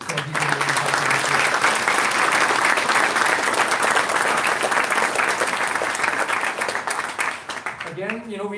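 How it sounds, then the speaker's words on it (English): Sustained, dense applause from a large conference audience fills the hall for about eight seconds, then tapers off as a voice begins speaking near the end. "I think both Mike and Denise deserve a huge round of applause"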